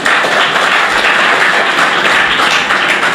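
A large audience claps loudly and continuously at a Hindi poetry event, a dense, even wash of applause lasting the whole stretch with no voices.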